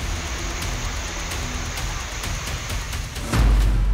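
Heavy monsoon rain pours down during flooding that swamps streets and vehicles, a dense, steady hiss of falling water that holds without a break, with a low rumble swelling in near the end.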